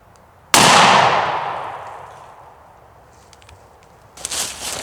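A shotgun blast from Federal TSS 3-inch number 9 turkey loads, one loud sharp report with a long decaying echo, followed by faint rustling and handling noise.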